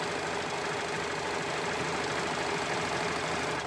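A sewing machine stitches a loose-fitting shirt's fourth seam, joining the shoulder and neck, giving off a steady, continuous motorized whir with a faint rattle that holds even throughout, with no talking.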